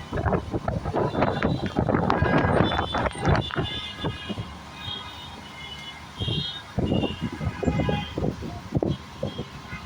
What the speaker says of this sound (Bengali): বাতাসের সঙ্গে সঙ্গে বৃষ্টি।